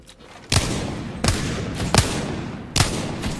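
Wingman pistol shots from the Apex Legends video game ring out as four sharp, loud reports spaced unevenly about a second apart, each followed by a short decaying tail, with quieter game ambience between them.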